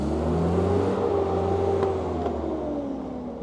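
A truck engine hauling a Caterpillar D9 dozer blade drones and revs with a deep, rising and falling roar, close by and steady, with no talking.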